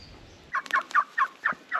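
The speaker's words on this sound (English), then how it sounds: "Couple of turkeys." A turkey gobbles in a quick burst of six rattling notes, loud and near, with no one speaking.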